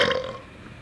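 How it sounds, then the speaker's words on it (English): A single loud, close burp lasting under a second, strongest at the start and trailing off into a low rumble, with no talking over it. "I feel a big burp coming on and it ain't coming out"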